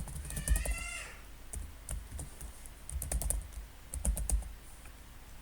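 Computer keyboard typing as an email address is entered into an online visa application form: quick clusters of soft keystrokes, close and quiet, with short pauses between bursts.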